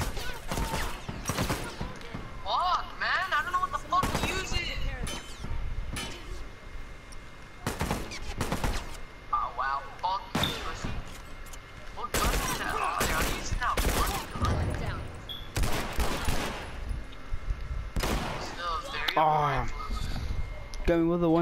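Bursts of video game gunfire crack repeatedly, loud and close, with rapid automatic volleys mixed with talk from players over voice chat.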